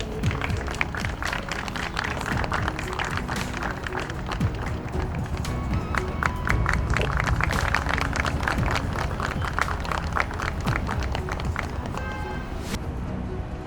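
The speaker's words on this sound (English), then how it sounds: "Please have a huge round of applause." An audience at an award ceremony applauds, a dense, sustained wash of clapping that holds steady at full strength for the whole stretch, with faint crowd murmur underneath.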